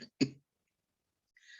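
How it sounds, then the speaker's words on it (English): A person on a Zoom memorial call gives a brief cough, two short close bursts in quick succession. Near silence follows, then a faint breathy rustle. "This is when I talk too much, I get this cough."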